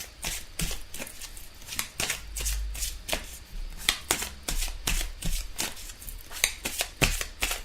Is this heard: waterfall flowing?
no